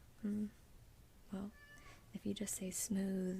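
A sad-sounding cat meows a few times close by while a person speaks softly in a quiet room, the cries rising and falling between and over the words.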